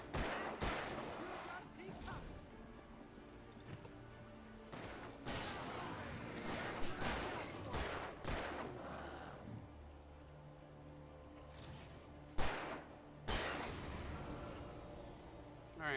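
Gunfire in the video game Alan Wake Remastered comes in repeated sharp bursts and single shots across the stretch, fairly quiet overall, mixed with game ambience.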